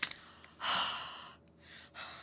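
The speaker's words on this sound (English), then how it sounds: "so we're huffing, so that's breathing all over it just to re-moisten the stamp set" Breathing onto a rubber stamp set to re-moisten ink during card-making: a soft click, then a long, close exhaled huff followed by a second shorter breath, with no talking.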